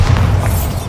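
A Bombarda blasting spell going off in Hogwarts Legacy, one heavy booming explosion with a deep rumbling low end, close and loud, filling the whole brief moment.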